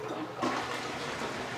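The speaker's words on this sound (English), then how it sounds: "So I'll go ahead and flush the toilet." A toilet flushes during a home inspection in Arizona, a steady rushing swirl of water that surges slightly near the start and continues evenly throughout.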